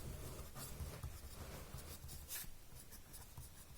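Pen writing a math equation by hand on paper, soft close scratchy strokes and taps in an irregular rhythm, faint and with no voices.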